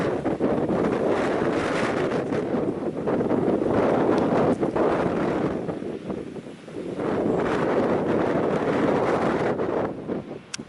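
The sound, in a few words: strong wind at the seaside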